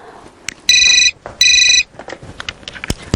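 A telephone rings during a phone call in a comedy scene: two loud electronic ring bursts, each just under half a second long, separated by a short gap, followed by soft rustling and clicks.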